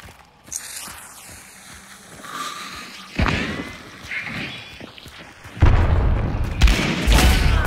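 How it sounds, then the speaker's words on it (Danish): A grenade blast in the game Hunt: Showdown, with a heavy low boom rising about midway and a second, louder explosive roar near the end over rumbling in-game noise. "har en granat"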